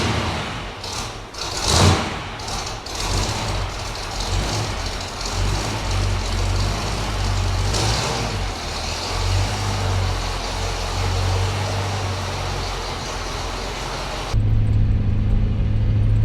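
Supercharged Jaguar XJS with handling upgrades on a test drive, a steady engine rumble and road noise from inside the car, with a brief louder surge near the start and no talking.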